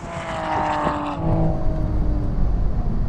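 A Toyota Supra and a BMW M4 launch in a drag race, with a loud engine roar and whine that sweeps past, then settles into a lower, steadier rumble.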